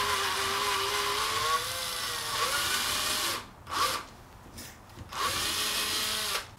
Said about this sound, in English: I'm just going to drill the end out, I think.